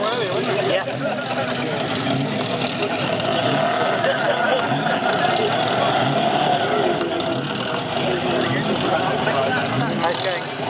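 Vintage Bentley racing car engine running at the Brooklands Double Twelve Memorial, a steady loud rumble throughout with a crowd murmuring faintly underneath.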